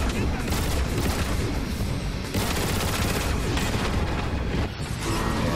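Missiles and heavy weapons fire in the video game Transformers: War for Cybertron, a dense, loud, continuous barrage of booming blasts and rapid shots layered together, with a brief dip near the end.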